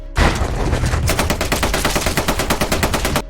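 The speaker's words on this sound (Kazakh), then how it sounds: "Дереу атыс басталып кетті." Loud, rapid automatic gunfire in a war film erupts after a brief pause and keeps rattling in a fast, continuous burst of shots, close and intense.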